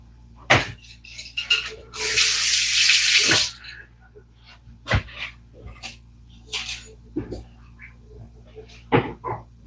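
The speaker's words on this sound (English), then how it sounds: "I'm just getting you some water, Bill." A kitchen tap runs steadily for about a second and a half to fill a dog's water bowl, set among short clatters and bumps from cupboards, with someone talking throughout.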